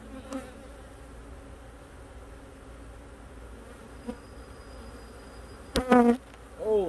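Honey bees buzz steadily in an Empire bee hive opened for a winter inspection, a low continuous hum up close with a brief louder burst near the end.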